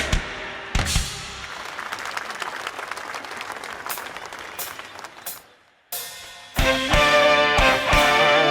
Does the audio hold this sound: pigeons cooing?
no